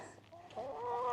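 Wet hens sheltering from rain on a farm on a damp morning, giving a few soft, close clucks that grow into a steadier murmur of fowl voices with no talk over them.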